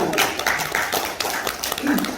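Audience at a lecture on Korean reunification applauds in a brief burst, the claps fairly close and moderately loud, with scattered taps and a little voice underneath.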